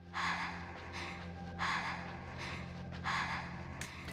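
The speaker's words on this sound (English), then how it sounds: "Now we gotta listen to her breathing." A person breathes heavily in a slow, repeating rhythm of loud, close, raspy inhales and exhales, each breath about a second apart, with no talk over it.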